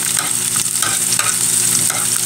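Garlic sizzles steadily in a small hot pan, a bright continuous frying hiss with occasional stirring scrapes, close and fairly loud.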